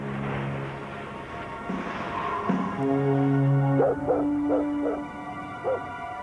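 Sled dogs in an animated adventure give a run of short barks and yips in quick succession, fairly close, over a bed of music.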